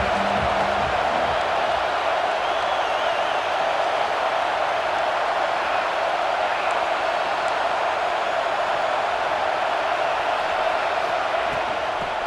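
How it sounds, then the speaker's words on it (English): Stadium crowd in EA Sports College Football 26, a dense, steady roar of massed voices filling the whole stretch at constant loudness without a break. "This crowd ready to make its presence known."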